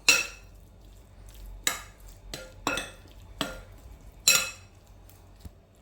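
A shrimp dish with green onion is stirred in a pan, with five or six sharp scraping clatters of the utensil against the metal separated by quieter pauses.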